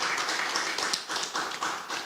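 A congregation at a church community service gives a guest poet a burst of dense, even applause. The clapping stays close and fairly soft, with no talk over it.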